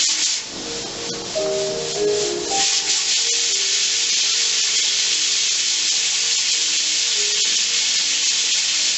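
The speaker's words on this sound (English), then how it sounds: "Hear the little sizzling going on" Steady broadband hiss and sizzle from a pressure canner while canning sausage, continuous and fairly loud throughout, with a few faint tonal clinks early on.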